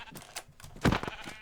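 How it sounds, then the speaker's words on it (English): A Minecraft sheep gives a single loud bleat as it is punched, with a few faint clicks and taps of game sounds around it. "And then I could even just punch the sheep to death, right?"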